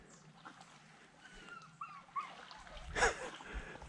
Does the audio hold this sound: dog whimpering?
yes